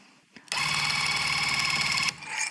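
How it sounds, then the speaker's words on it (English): Tufting gun running on a rug, a loud rapid buzzing mechanical chatter lasting about a second and a half, starting and stopping abruptly, close up. "we simply pull the trigger and move up with the machine"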